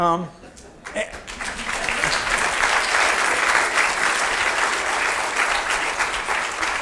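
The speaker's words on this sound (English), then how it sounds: "I will pass your applause to Professor Euler, who deserves it." Lecture audience breaks into applause after a mathematics talk, a brief word or two at the start giving way to sustained, dense clapping that holds steady at full strength.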